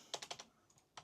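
Quick, faint keystrokes on a computer keyboard in a solar installation design office: a burst of four taps, a couple of softer ones, then one more.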